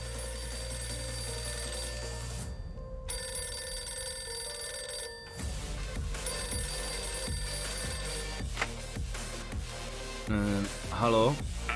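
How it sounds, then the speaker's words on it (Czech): Old-style telephone bell ringing in the Mafia 2 video game, repeated trilling rings broken by short pauses over a busy game background, with a brief voice-like sound near the end. "Jdu zvednout telefon."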